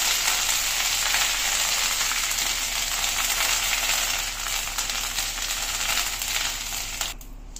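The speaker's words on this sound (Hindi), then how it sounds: "इसमें हम डाल रहे हैं ये राई। राई तड़केगी, इसके साथ ही साथ हम डालेंगे इसमें कड़ी पत्ता।" Mustard seeds and curry leaves sizzle in about two tablespoons of hot oil for a vegetable poha tempering, a dense, steady, close crackling hiss that runs unbroken throughout and ends in a brief clatter.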